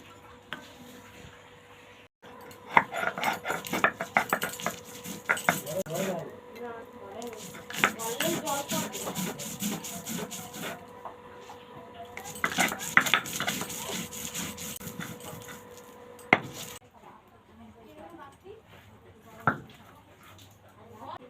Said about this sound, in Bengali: এবার আমি মশলাটা বেটে নেবো